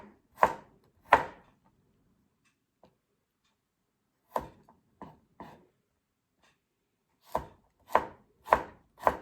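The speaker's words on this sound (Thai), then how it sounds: "กับกระเทียมเนี่ยเฮาก็หั่น" Knife chopping garlic on a board at home, a series of sharp, close taps in small irregular bursts separated by quiet pauses.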